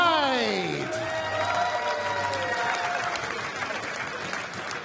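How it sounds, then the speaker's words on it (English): Darts crowd at a world championship quarter-final applauding a winning player, sustained clapping and cheering that stays steady and loud, with a tone sweep fading at the start and a voice talking under it. "Ladies and gentlemen, keep your applause going for Lorraine Hyde."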